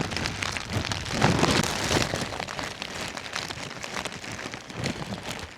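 Heavy rain pours down steadily at close range in the Konkan ghats near Velneshwar, a dense, loud hiss of drops hammering surfaces for the whole stretch with no voices.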